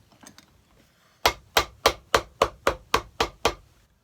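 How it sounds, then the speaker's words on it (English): A hammer strikes the heel of an Alden shell cordovan leather shoe during restoration, nine loud, evenly spaced blows ringing out alone after a few faint taps at the start. "What time is it? It's hammer time."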